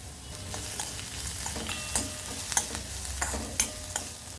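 Onions sautéing in a pan produce a soft continuous sizzle, close by, broken by several quick stirring scrapes and clicks spaced unevenly throughout, no voices.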